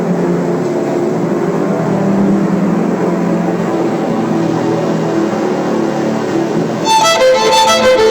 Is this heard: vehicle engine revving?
yes